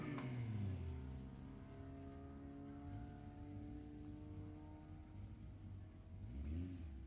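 Drag race cars accelerating at Sacramento Raceway during a Summit ET series event, a faint distant engine roar rising and sweeping through gear changes, with a second car swelling louder near the end.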